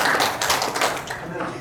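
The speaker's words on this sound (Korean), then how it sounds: "박수로 부탁드립니다" Audience applause at a Nowon political school lecture backed by the Roh Moo-hyun Foundation: a dense, steady patter of many hands clapping throughout, fairly close and loud.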